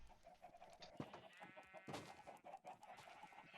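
Minecraft chickens cluck in soft, repeated game calls at low volume over a faint steady background, with no speech.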